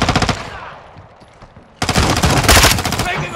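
Rapid automatic rifle fire from Call of Duty: Modern Warfare team deathmatch rattles in loud close bursts, a short burst, a brief lull, then a sustained stream of shots.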